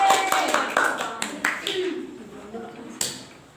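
Students in a sixth-grade social studies class clap in response to a teacher's praise, a short scattered burst of hand claps with sharp individual slaps, voices mixed in and the clapping tapering off.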